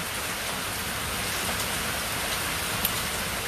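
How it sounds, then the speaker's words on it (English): Loud rain, heavy and continuous, a dense hiss of drops drumming on a surface that fills the whole stretch with no voices over it. "this rain is, like, really loud"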